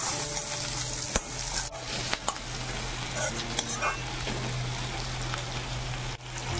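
Curry leaves crackle and splutter in hot oil in a home kitchen, a close, continuous sizzle with scattered sharp pops and spits, heard alone with no voice.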